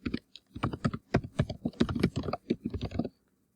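Quick bursts of keystrokes on a computer keyboard, close and clear, typing in short runs with brief pauses before stopping.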